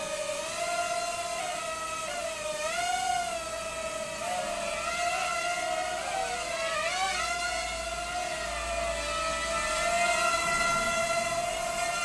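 A toy quadcopter drone's propellers spin on its second speed rate, a close, steady high-pitched whine that wavers slightly up and down while holding throughout.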